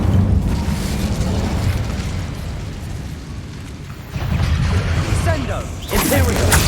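Incendio fire spell cast in the Hogwarts Legacy video game on PS5, a loud sustained whooshing burst with rumbling low energy, swelling again near the end amid game effects.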